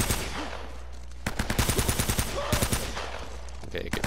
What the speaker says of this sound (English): The last few shots in my mag.